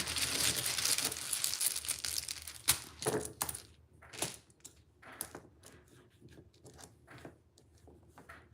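A handful of plastic letter tiles are pulled from a pile, giving a dense rattling clatter at first that thins into scattered clicks and taps, close and fairly soft, with no voices.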